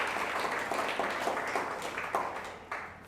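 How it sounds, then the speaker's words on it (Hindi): Clapping rises from an audience at a church service, a dense steady patter of many hands applauding together, moderately close and continuing without pause. "आइए हम ताली बजा के धन्यवाद करें।"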